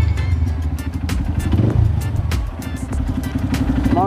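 A new motorcycle running at a cattle barn, its engine chugging in a steady close rumble with clattering, brief rises in revs, and people talking faintly over it.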